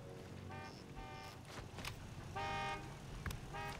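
Several car horns honk in short bursts of toots in the video game Sniper Elite 5 during a roadblock scene, fairly faint and spaced over a low background.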